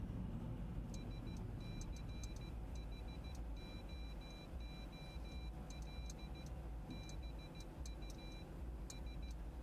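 Morse code CW beeps sent from a Winkeyer keyer inside a moving car on a commute, short and long tones in uneven bursts over steady road and engine rumble.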